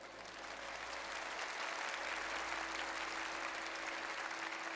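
A fan fest audience bursts into applause, a dense, sustained clapping from a large crowd that builds quickly and holds steady, heard from within the hall.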